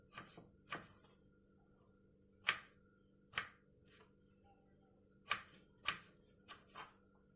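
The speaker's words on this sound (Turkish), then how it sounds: "Bu havuç turşularımı da doğruyorum." Sparse knife chops through pickled carrots on a cutting board, single sharp strikes spaced irregularly, fairly close and quiet, with no talking.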